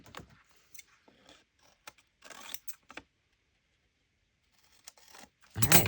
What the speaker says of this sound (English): This one I'm just going to cut around it.